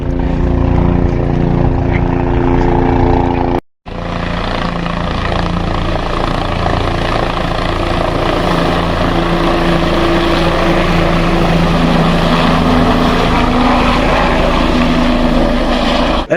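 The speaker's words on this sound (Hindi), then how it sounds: "हेलीकॉप्टर वगैरह लगातार अपनी उड़ान भरे जा रहे हैं भाई" Helicopters flying over Kedarnath keep up a loud, steady rotor and engine drone, nearly constant throughout apart from one brief cut, with no voices audible.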